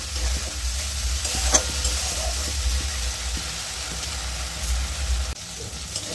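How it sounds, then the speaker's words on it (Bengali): Spice paste sizzles and fries steadily in oil over a low flame for a Bengali fish curry with potato and pointed gourd, a continuous close hiss with occasional stirring scrapes and a brief louder clack. "মশলাটা দিয়ে আমি ভালোভাবে তেলের সাথে একটু মিশিয়ে কষিয়ে নেব তিন থেকে চার মিনিটের মতন লো ফ্লেমে"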